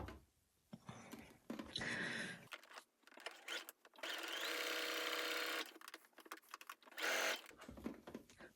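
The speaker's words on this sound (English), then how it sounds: "I'll now top stitch along the edges, pivot at the top, reinforce," A sewing machine runs in several bursts while top stitching along the edges of a tunic: short runs, a longer steady stretch in the middle, and pauses between them for pivoting and reinforcing. The sound is close and fairly quiet.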